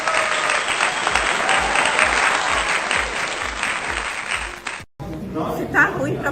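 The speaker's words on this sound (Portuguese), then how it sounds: "Uma salva de palmas para a Janja." Audience applause with dense, sustained clapping that fills most of the stretch, then cuts off abruptly near the end, leaving a brief quieter tail with some murmuring.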